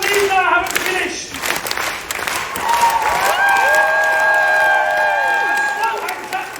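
A cruise ship audience at an evening show aboard Royal Caribbean's Anthem of the Seas claps and cheers loudly, while an amplified voice talks over the applause.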